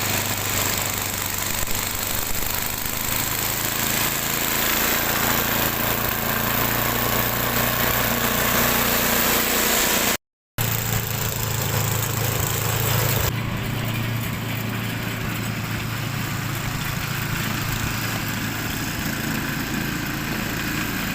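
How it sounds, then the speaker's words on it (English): A snow blower engine runs steadily and loudly up close in deep winter snow in Northern Michigan, a continuous droning hum that briefly cuts out and then resumes with a slightly changed tone. "I'm gonna get started on the snow blower now."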